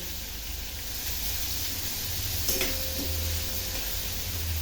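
Tomatoes roast in a hot pan with a soft, even sizzle and hiss, fairly quiet and continuous, with a brief faint clink partway through.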